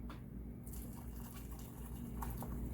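Water pouring into a pot in a home kitchen: a brief, steady liquid gurgle and splash that rises in pitch as it fills, close and quiet over a low hum.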